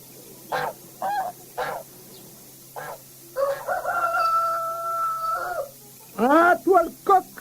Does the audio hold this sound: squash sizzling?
no